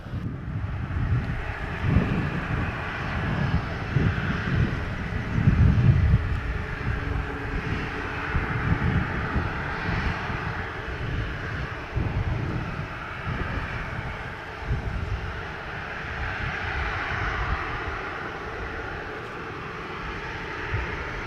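A fixed-wing airliner lands on runway 07 at Montego Bay airport in Jamaica in a 16-knot wind, its engine roar steady and fairly loud for the whole stretch, with wind buffeting the microphone.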